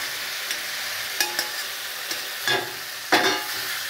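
A whole bhola fish sizzles steadily in a hot pan, with a few sharp crackles and brief stirring scrapes over the continuous frying hiss.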